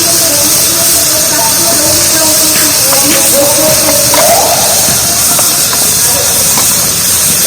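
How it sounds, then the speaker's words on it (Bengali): Spiced masala paste, hand-kneaded, dropped into hot oil for Ramzan onion chop, giving a loud, steady broadband sizzle and hiss throughout, with faint voice and light clatter underneath. "এবার তেলে দিয়ে দিচ্ছি কষানো মশলা"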